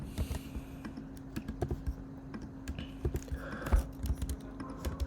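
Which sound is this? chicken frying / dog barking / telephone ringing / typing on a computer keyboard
typing on a computer keyboard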